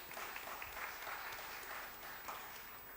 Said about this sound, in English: let's give a round of applause to those who asked the questions, and let's give them a round of applause.